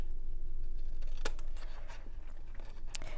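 Scissors snip through gift card paper close up, with a few quiet cuts and crisp rustles over a low steady background hum.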